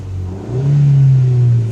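A troubled car engine revs up hard as the accelerator is floored, a brief dip then a loud, close rising roar that holds before easing slightly.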